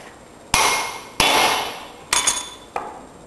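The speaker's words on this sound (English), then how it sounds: "And get your old hammer out." Four heavy hammer blows on the long-stuck metal steering stabilizers of an Aztec trencher, each ringing out briefly, spaced unevenly about half a second to a second apart.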